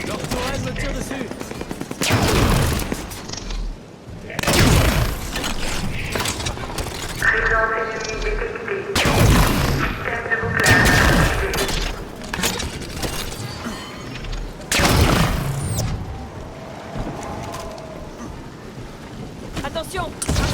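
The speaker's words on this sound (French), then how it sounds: "Leur tourelle me tire dessus." Enemy turret fire in the Halo 5: Guardians campaign on Legendary, heard as repeated loud broadband blasts and bursts spread across the clip, mixed with dense game effects and music.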